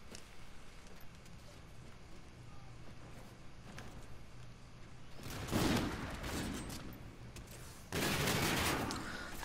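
Two loud, broad gunfire bursts from a sniper rifle in Call of Duty: Infinite Warfare gun game, each sharp blast trailing off with a rumbling tail, set against a quiet game background.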